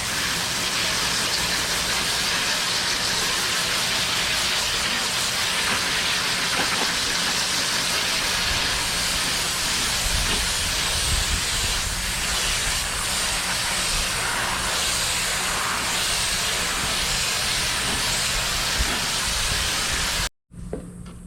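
A water hose rinses a home air conditioner coil with a loud, steady rushing hiss of spray striking metal fins, continuous and close for about twenty seconds before cutting off abruptly.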